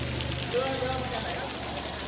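Heavy rain falling in Nan province, Thailand: a dense, steady hiss of downpour drumming on surfaces close by, with a low hum and faint voices partly mixed in.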